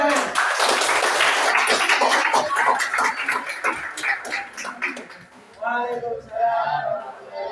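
Applause from a high-school classroom audience, a burst of many hands clapping for several seconds that thins out, followed by voices talking.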